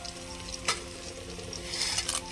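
Small tempering seeds, including mustard seeds, sizzle and crackle in hot oil, a steady close frying hiss with a sharp pop near the start.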